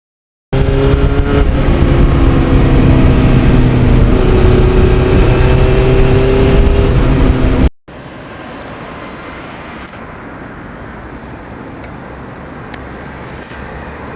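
A 1991 Yamaha FZR 1000 motorcycle fitted with an aftermarket exhaust roars loud and close as it accelerates hard through the gears at a drag strip, its rising engine note cutting off abruptly to a lower wind-blown rumble.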